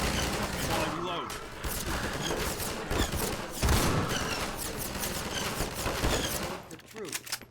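Gunfire rattles in the virtual reality game Half-Life 2 VR, loud bursts and crashing impacts layered over a voice talking throughout, dense and chaotic with a few sharper peaks.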